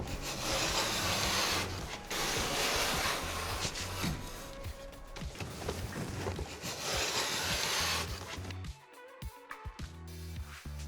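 A vinyl cutter tool is pressed and pushed along a wall to trim Tarkett ICONIK sheet vinyl flooring, giving a close, continuous scraping and rasping that comes in long strokes with brief pauses.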